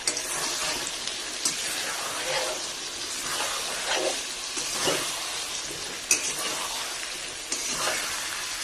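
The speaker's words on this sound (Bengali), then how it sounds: "মাংসগুলো দিয়ে দেবো, দিয়ে মাংসগুলো দিয়ে এখন নাড়াচাড়া করে নেবো।" Meat sizzles steadily in a hot pan while being stirred and turned, a continuous bright frying hiss with occasional scraping clinks, close and fairly loud throughout.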